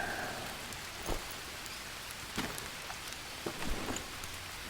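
Steady rain pattering in the Green Hell survival game, a soft even hiss with scattered louder drops, faint and alone without talk.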